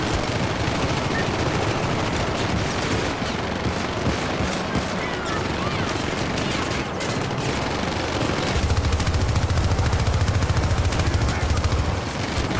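Sustained automatic gunfire from the 2012 shooter Syndicate, a dense steady barrage of rapid shots throughout with loud game ambience and a low rumble building near the end.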